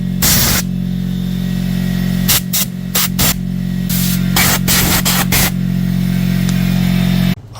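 Compressed air blows dust off a refurbished Delta 1x30 belt grinder in loud hissing blasts, one long then several short bursts, over a steady electrical hum, with no speech.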